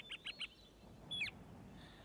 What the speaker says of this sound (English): He heard birds singing.